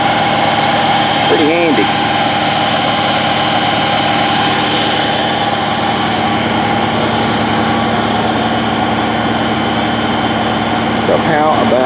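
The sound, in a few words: mini excavator engine idling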